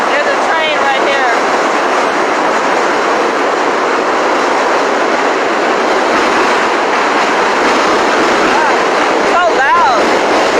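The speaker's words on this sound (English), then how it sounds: "There's a train right here." A train passes close by in Williamsburg, New York: a loud, continuous rumble and clatter of rail cars that lasts throughout, with brief high wheel squeals near the start and end.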